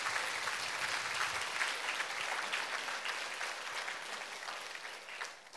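Steady applause from an audience at a gospel prayer meeting, sustained and even for several seconds before tapering slightly at the end, with no talking over it.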